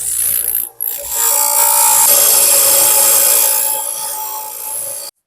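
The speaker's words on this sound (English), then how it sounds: "So we're going to have to grind this edge down, chamfer it, so that a nut can go on there" An angle grinder chamfers the edge of a steel bolt so a nut can thread on, a loud, sustained close-up grinding whine that starts after a brief cut and stops abruptly, no talk.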